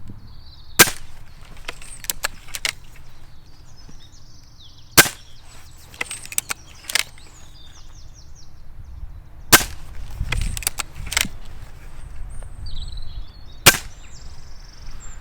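A Gamo Maxxim Elite Swarm IGT air rifle fires multi-shot in quick succession: sharp cracks in loose clusters, each followed by mechanical clicks, with birdsong faint in the background.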